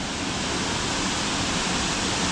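Baxter Falls in Kondalilla National Park, Queensland, running only as a thin dribble, gives off a steady broadband wash of falling water, loud and close, with no pauses or voices.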